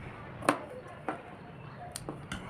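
Scissors make small snips into fabric along the curved seam of a girl's crop top: four crisp, separate cuts spaced about half a second apart, close and fairly quiet.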